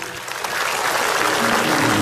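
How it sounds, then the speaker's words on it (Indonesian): A studio audience at an Indonesian comedy talk show about a matchmaking bureau claps steadily, a dense, loud wash of applause that swells slightly and holds. "Boleh minta tepuk tangannya bapak-bapak,"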